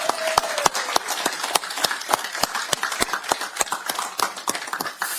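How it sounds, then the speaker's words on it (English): Audience at a county Board of Supervisors meeting clapping for the Woman of the Year honoree, a steady burst of sharp, dense hand claps from a moderate-sized crowd, filling the room for several seconds without pause. "Oh, yeah, we're clapping for you."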